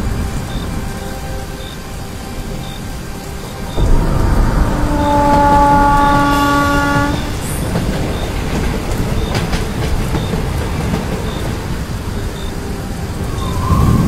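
An evening commuter train rolls along with a loud, close rhythmic clatter of wheels over rail joints, punctuated by a sustained tonal whine from the train partway through; no one speaks.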